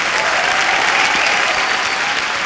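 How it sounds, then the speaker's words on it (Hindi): A studio audience at a Kapil Sharma Show taping with Bollywood villain actors claps in a dense, steady wash of applause that holds at full strength, close and loud, with no break and no voices standing out. "जोरदार तालियां एक बार"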